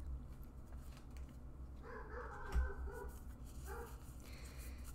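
A puppy indoors lets out a few faint barks and whimpery yips, a short cluster at a distance over quiet room tone.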